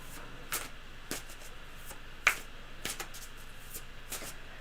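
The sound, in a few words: shuffling cards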